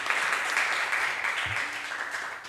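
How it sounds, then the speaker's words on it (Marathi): An audience at a photography awards ceremony applauds the chief guest, a short, fairly loud burst of many hands clapping that fades slightly toward the end. "परत एक त्यांच्यासाठी एक जोरदार टाळ्या होऊन जाऊ द्या."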